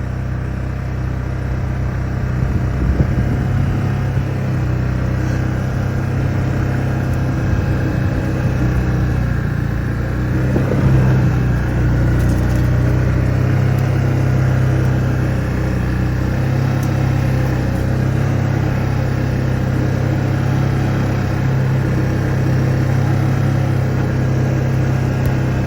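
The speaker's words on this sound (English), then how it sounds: "you can see the 2024 Can-Am Outlander HD7 Hunt Edition doing its thing" A 2024 Can-Am Outlander HD7 Hunt Edition ATV engine runs on a snowy winter trail, a steady mid-pitched drone that holds even and close throughout with slight rises in load.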